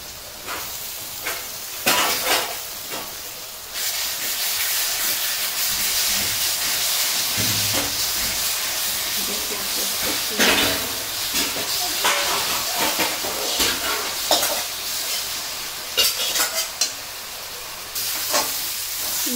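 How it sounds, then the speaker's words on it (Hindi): Garlic paste frying in a pan of oil while a Bengali-style chicken dish is cooked, giving a steady, close hiss and sizzle throughout with a few sharper crackling bursts. "लहसुन फ्राई हो रहे"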